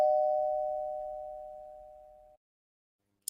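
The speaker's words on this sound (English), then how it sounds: "That was the doorbell." A single doorbell chime rings out clearly and decays steadily over about two seconds, followed by silence and a brief click at the end, with no talking.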